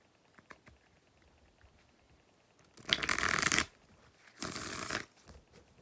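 A Mercury oracle card deck is riffled in two quick, close shuffles, each a dense papery burst lasting under a second, with faint taps and handling between them.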